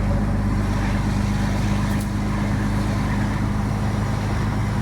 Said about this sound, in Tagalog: hintayin mo lang yung tunog ng makina